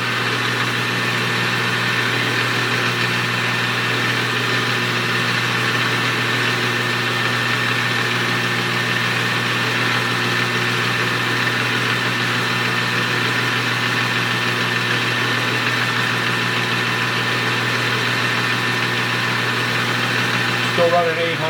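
Metal-cutting machine tool running steadily at 800 RPM with a radius cutter while building a small steam engine, giving a continuous close mechanical hum with strong steady harmonics throughout and a brief change near the end.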